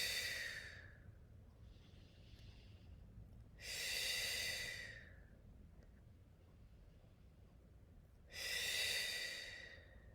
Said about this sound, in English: Take some breaths, because we don't breathe enough